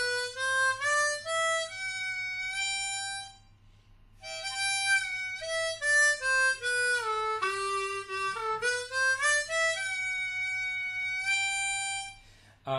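Harmonica blow bend on hole 6, clean sustained reedy tones sliding down and back up in pitch, played solo and close with a short pause partway through and no talking.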